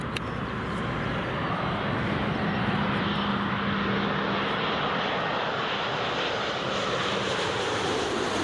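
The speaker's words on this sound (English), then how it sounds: "787 is coming in. And it's the 900. It's the longest variant of the Dreamliner that TUI operates." A TUI Boeing 787-9 Dreamliner lands at Newcastle International Airport, its engines giving a steady, broad, continuous roar with no voices over it.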